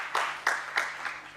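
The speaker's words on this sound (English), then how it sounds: "warm welcome of applause" Scattered clapping from a small group, with a few louder bursts standing out over a steady patter, fading slightly toward the end.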